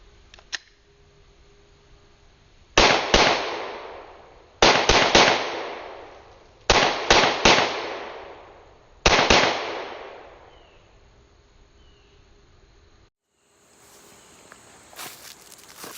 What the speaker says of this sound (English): I'm going to start out from a distance of 7 yards and just come up and put some quick double taps and triple taps on the target